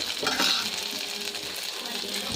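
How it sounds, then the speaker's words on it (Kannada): Onions fry in a little oil in a pan, giving a steady close sizzle with light stirring and scraping throughout, fairly loud and continuous. "ಆನಿಯನ್ಸ್ ಹಾಕಿ ಫ್ರೆಂಡ್ಸ್ ಈ ಥರ ಫ್ರೈ ಮಾಡ್ತಾ ಇರಿ."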